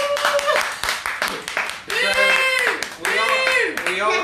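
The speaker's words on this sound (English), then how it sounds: "Clap with me." A small group claps along at a slimming club meeting, bursts of hand claps mixed with cheers and whoops, with talk and voices running over the clapping throughout.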